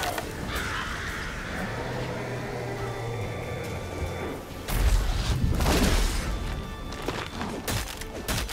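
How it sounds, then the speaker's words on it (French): A boss in The Witcher 3: Wild Hunt fades away while releasing a flock of crows, heard as loud cawing and flapping over game effects, with a heavy boom-like burst midway and a dense, noisy battle backdrop. "quand il commence à disparaître et il balance ses corbeaux en même temps"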